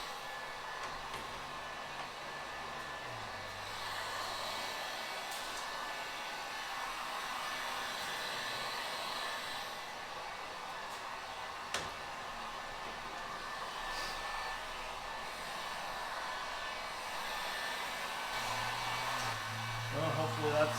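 A heat gun warms the tape on the spoiler of a 2022 Corvette C8, blowing with a steady, even whoosh that lasts the whole time, moderately loud and continuous, with brief faint handling noises now and then.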